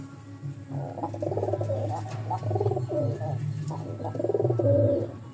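Several pairs of domestic pigeons kept at a home loft give soft, repeated throaty coos in a continuous rolling series, close by over a low background hum.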